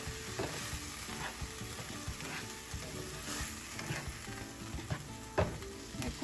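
Garlic and onion paste fries in a pan for a carp fish gravy, a soft continuous sizzle broken by repeated scraping stirs of the spoon against the pan, fairly quiet and close, with no voices.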